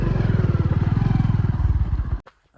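A tractor engine driving through a farm field, its loud, close, steady rhythmic chugging running for about two seconds before cutting off abruptly.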